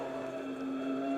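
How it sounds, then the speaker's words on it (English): A Nissan touring car at full race pace on a circuit, its engine holding a high, steady whining rev, loud and continuous, heard briefly and without talk. "Now just listen to the engine revs"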